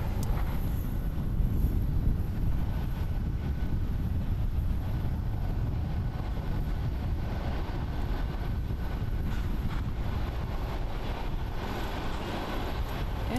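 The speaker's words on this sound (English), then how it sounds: "Japan Airlines, Flight 515, going to CTS. It's a Boeing 787-8 Dreamliner, 4 years old." Japan Airlines Boeing 787-8 Dreamliner at Haneda Airport, Tokyo, producing a steady, continuous low jet rumble that holds evenly throughout without clear peaks, fairly distant and unaccompanied by speech.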